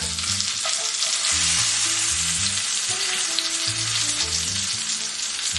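A salmon fillet fries in a hot pan, giving a loud, continuous, dense sizzle that stays even throughout, heard close up with no voices.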